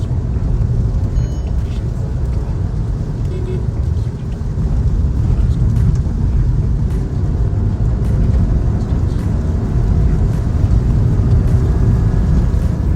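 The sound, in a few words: Skoda Kushaq 1.0 manual car engine accelerating in third gear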